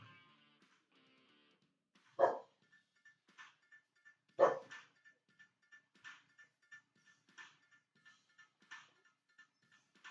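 A pet dog outdoors by a tree barks twice loudly, followed by a run of fainter, evenly spaced yips and barks over a quiet background.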